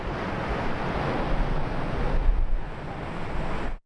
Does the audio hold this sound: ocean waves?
yes